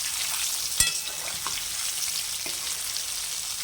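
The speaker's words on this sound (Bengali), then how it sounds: "তো মশলা মাখিয়েই ভাজছি" Spice-coated potatoes for an egg biryani fry in a pan with a soft, steady hiss, broken by a few quiet stirring clinks and one sharper knock early on.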